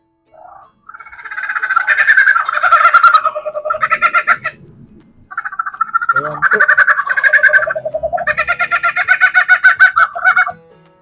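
A loud DIY 8-channel electronic horn built with a DY-SV8F module cycles through warbling, squawking tones in rapid pulsing bursts, close by, after a brief spoken word.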